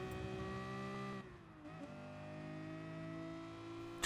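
A race car in Gran Turismo Sport accelerates out of a corner on the Dragon Trail Gardens circuit, a high, steady engine whine that drops briefly near the middle and then climbs in pitch again.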